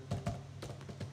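Computer keyboard keys tapped a few times in a quick, light burst while Java code is typed; faint and close, with no talking.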